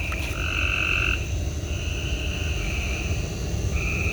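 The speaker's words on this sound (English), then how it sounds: "why are these frogs so freaking loud?" Loud, continuous frog croaking around a swimming pool fills the air, with steady high-pitched chirring trills layered over a dense low rumble of calls, no voices.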